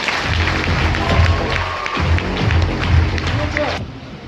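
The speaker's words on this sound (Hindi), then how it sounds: "ladies and gentleman, give yourself एक जोरदार ताली आप सभी लोगों" Audience at a meeting in a hall at Ravindra Bhavan, Patna, breaking into steady, dense applause with some crowd noise and cheering, fairly loud and sustained before cutting off near the end.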